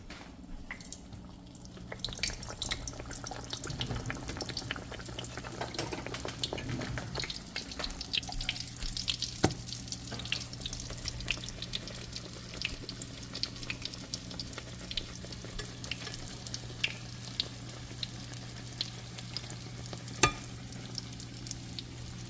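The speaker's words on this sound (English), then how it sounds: "Let's put in our bacon here." Bacon fries in hot oil, giving a continuous close sizzle with scattered pops and crackles, steady throughout and not covered by any talk.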